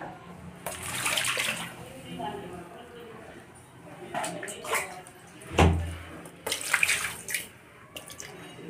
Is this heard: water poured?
yes